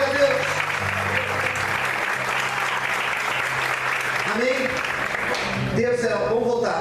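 A church congregation claps in sustained, dense applause during a Portuguese-language sermon, loud and continuous, with a voice speaking over it toward the end.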